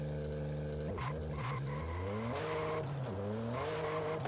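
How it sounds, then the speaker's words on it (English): In the racing game Forza Horizon, a car engine revs hard in repeated rising sweeps, bouncing off the rev limiter with sharp cuts and crackling pops. It plays loud and close with no talking. "It loves to bang off the limiter. We're getting some pops."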